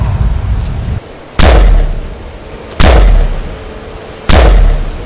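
Gunfire in a horror game aboard a haunted sinking military ship, three loud booming shots spaced roughly a second and a half apart, each with a long decaying tail over a rumbling background, no talking.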